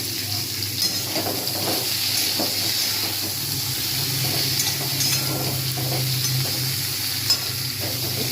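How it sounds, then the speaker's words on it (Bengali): Vegetables fry in a wok with cumin tempering and lentil dumplings, giving a steady, close sizzle and hiss with a few soft stirring scrapes throughout. "সবজিগুলো ভাজা হচ্ছে"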